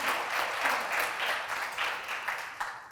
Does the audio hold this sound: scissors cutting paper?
no